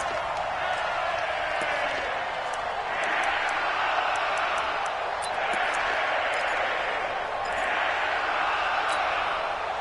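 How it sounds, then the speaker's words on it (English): A stadium crowd in a football video game roars in steady swelling waves as a big third down approaches, continuous and loud with faint clicks on top. "The crowd getting into it as we come up on a big 3rd down"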